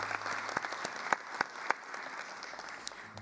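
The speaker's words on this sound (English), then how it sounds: "let's give a round of applause to all the partners, families, and friends who supported us" Applause from the audience at a graduation ceremony in the State Library of Victoria, honoring partners, families and friends; scattered, fairly soft hand claps in a reverberant hall, with a few sharper individual claps standing out.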